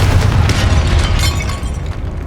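A spell blast from the Confringo fire curse in Hogwarts Legacy, a loud sustained booming explosion with crackling bursts that rumble on and slowly fade over a couple of seconds.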